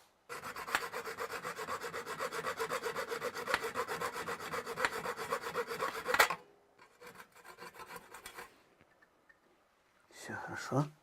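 Tool working a piece of wood being made into an instrument, with steady rhythmic rasping strokes for about six seconds, then a few scattered scrapes and a short final burst, close and fairly loud.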